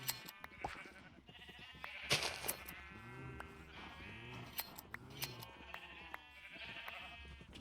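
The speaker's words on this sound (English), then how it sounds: "We got a wild sheep out there somehow." Sheep in Minecraft bleat over and over in wavering, overlapping calls, close and clear, with clicks and small game noises between them.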